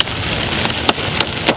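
Hail clatters against a car windshield while driving through a storm cell: a dense, continuous patter of hard hits with a few louder sharp cracks standing out, close and loud, with no voices.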